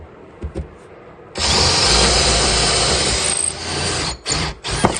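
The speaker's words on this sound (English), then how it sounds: "Oh shit, it's on hammer drill mode." A power drill accidentally left in hammer mode bores into wood in a home garage: one loud, steady grinding burst of about three seconds, followed by a couple of short, choppy spurts.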